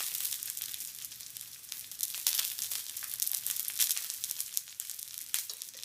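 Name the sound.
wild duck breasts searing on the stove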